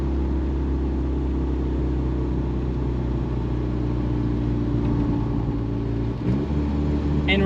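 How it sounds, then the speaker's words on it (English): A turbocharged 9th-generation Honda Civic Si accelerating from 40 mph in second gear on a hot day, a steady loud engine drone and rumble from inside the car that builds slightly with a brief shift in tone near the end. "I'm gonna do a 40 roll, which is second gear"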